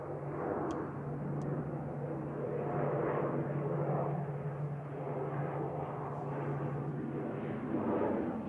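A fixed-wing airliner passes near Manchester Airport, its steady jet engine roar holding loud and continuous throughout with a low droning hum beneath, no voices present.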